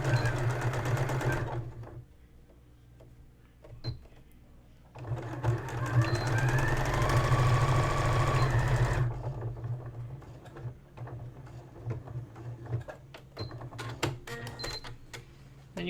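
Sewing machine back stitching at both ends of a pleat on a wristlet, a 1/4 inch seam allowance: two bursts of steady rapid needle whir, the second longer, with short clicks and fabric handling between them and a faint voice in the background.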